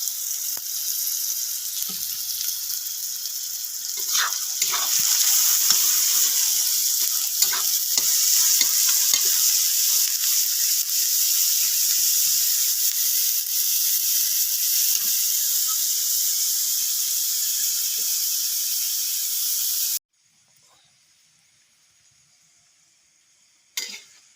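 Chopped onion fries in an iron pan on a wood-fired stove, with a steady loud sizzle and occasional stirring scrapes for about twenty seconds before cutting to near silence, then a brief final clatter.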